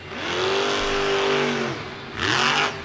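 The Grave Digger monster truck at Monster Jam Nashville 2024 in Nissan Stadium, its engine revving hard in two loud surges with a short dip between, the pitch climbing and then falling.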